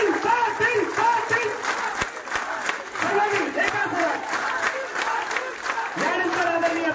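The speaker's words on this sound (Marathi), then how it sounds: "एका तालात सुद्धा टाळ्या वाजवा" Large crowd at a Maratha community political rally clapping loudly and continuously, with shouts and voices mixed in; the rhythm is not clearly steady, more a sustained wash of applause and crowd noise.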